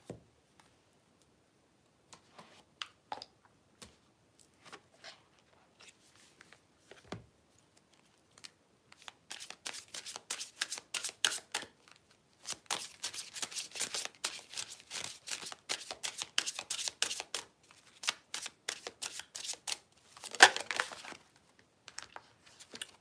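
Twin Flame tarot cards being shuffled by hand, soft crisp riffling and flicking that starts as sparse taps and builds into dense runs of card sounds, quiet and close with no talking.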